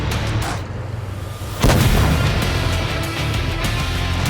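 Tank guns fire in the World of Tanks Blitz game: one heavy, loud boom lands mid-clip over a steady bed of battle noise and rumble, with fainter shots around it.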